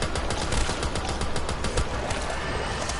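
An M14 rifle fires rapidly in Black Ops 3 zombies on the Ascension map, producing a fast, loud string of close shots over a busy game-noise background, without speech.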